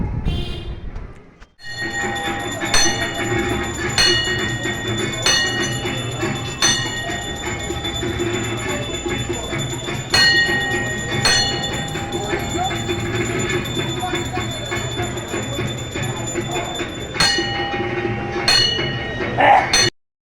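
Busy railway platform ambience at Madhyamgram station with a crowd murmuring, repeated metallic clinks and a steady rumble of a train to Sealdah nearby.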